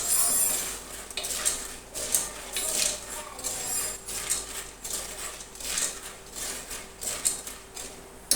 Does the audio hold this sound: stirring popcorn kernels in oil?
yes